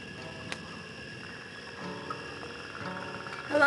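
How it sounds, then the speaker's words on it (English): Frogs croaking at night beside a lake make a faint, steady chorus of high, sustained trilling that runs unbroken throughout, with no talking. "Would you listen to that? What? The frogs."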